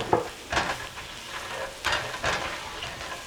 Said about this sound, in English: Nothing like shallots and garlic sauteing.